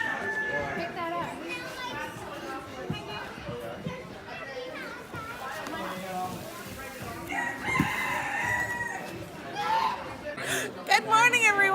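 Crowded bird auction hall where roosters crow and chickens cluck amid a steady chaotic din of people chatting and children's voices as birds are brought in.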